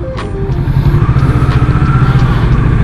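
A small motorcycle engine fitted with a 59mm big valve build and stock pipe idles and runs loudly up close, a steady rhythmic putter with a slight rise in revs.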